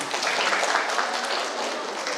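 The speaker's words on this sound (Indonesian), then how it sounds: "Tepuk tangan dulu dong" Audience applause at an academic seminar held for a regional graduation ceremony of Universitas Terbuka Palembang, a steady wash of many hands clapping at moderate loudness for about two seconds with no talk over it.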